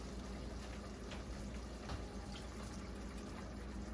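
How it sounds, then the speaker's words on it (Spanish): Water running steadily into a pan of ground beef with cabbage and carrot, a continuous broadband rush for the whole stretch with no voices. "lo que tienes que hacer es agregarle un poquito más de agua"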